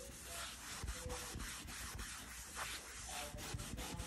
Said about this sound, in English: So I'm just gonna go ahead and clean it with the sponge.